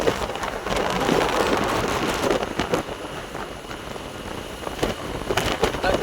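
Rain falling outdoors beside heaps of salt at a coastal salt pan, a steady hiss of drops with gusty wind buffeting close by and occasional sharper pattering bursts.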